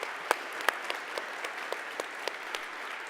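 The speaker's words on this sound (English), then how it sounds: "Let's give a huge round of applause for the people hosting us today." An audience in a hall at a Milwaukee tech summit applauding the event hosts, a light, fairly quiet patter of clapping with a few sharper individual claps, steady and moderately distant.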